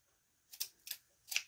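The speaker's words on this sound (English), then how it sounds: "I'm just going to come in with my scissors, cut my little loops." Scissors snip through small craft loops for a Dollar Tree patriotic fireworks decoration, making three quick, close, crisp cuts in a quiet room.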